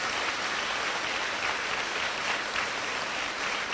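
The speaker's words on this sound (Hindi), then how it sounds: "जोर से तालियां बजाकर प्रभु धन्यवाद दीजिए" A church congregation claps loudly in thanks during worship, a dense, even wash of many hands clapping together without pause, close and filling.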